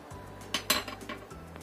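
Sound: stirring leftover rice with spices in pan

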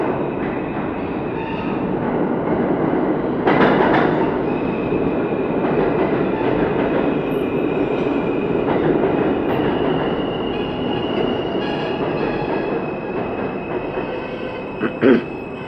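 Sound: R160 subway train arriving

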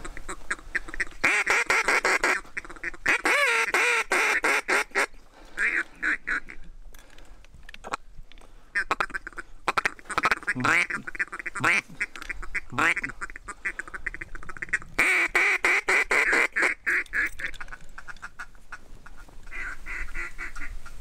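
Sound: ducks quacking during teal hunt

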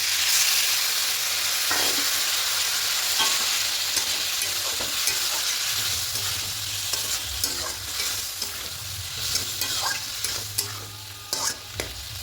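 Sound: sautéing cauliflower curry masala with yogurt and water

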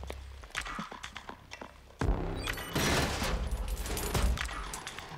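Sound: gunfire in video game Killzone Shadow Fall

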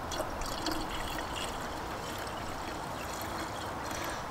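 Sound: water poured into a Mercedes W203 coolant reservoir

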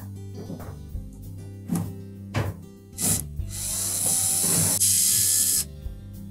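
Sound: removing screws from Samsung dryer blower housing

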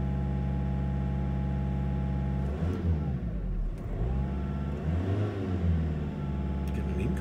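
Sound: Volkswagen Caddy engine revving up to 2000 RPM

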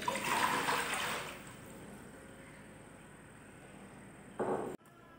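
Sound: water being poured for cooking

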